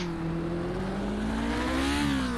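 A kart engine in iRacing revs high and sustained, a loud, even buzzing tone that climbs gradually in pitch, heard alone without speech.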